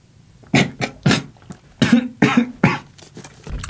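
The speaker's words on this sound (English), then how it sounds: "I was just kind of coughing there while I drank." Repeated coughing bursts from a person drinking a cereal-themed drink, about six harsh coughs spaced irregularly over a few seconds, close and fairly loud with short quiet gaps.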